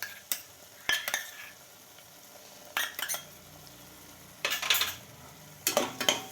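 Ginger, garlic and coriander paste for mutton curry stirred in a hot pan, several short bursts of spoon scraping and sizzle separated by quieter pauses, with no talk.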